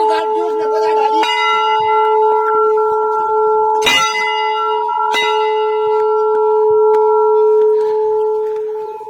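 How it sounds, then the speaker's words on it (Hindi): A Hindu temple bell at a hilltop Kali temple in Pauri Garhwal, Uttarakhand, rings repeatedly with a few clanging strikes, its bright metallic tone sustaining and overlapping, close by, with faint voices in the background. "तो यहाँ पे दूसरी घंटी"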